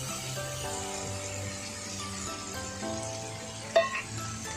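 Liquid, apparently a spoonful of soy sauce, poured into a hot pan for Hong Kong–style sweet soy chicken, giving a steady close sizzle and frying hiss with a brief louder burst near the end, under faint background tones.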